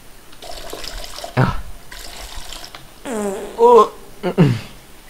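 Urine streams into a toilet in the Toilet Simulator video game, coming in two steady splashing bursts, followed by someone talking in Thai over the game audio.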